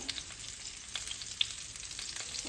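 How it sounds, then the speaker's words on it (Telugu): Stuffed eggplant frying gently in a pan for a curry, a quiet even crackling sizzle with faint pops and a thin high hiss, close and continuous, without talk. "ఇప్పుడు ఇది చిన్నగా వేగుతుంది అన్నమాట."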